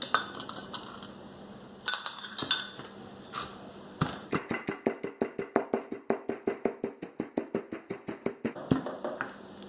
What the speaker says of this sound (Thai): โอเคมาตำน้ำพริกก่อนจ้ะ